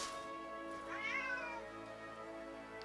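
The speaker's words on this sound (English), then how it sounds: "stop meowing." Cat meowing indoors, one drawn-out, rising and falling meow heard fairly clearly over a steady background hum.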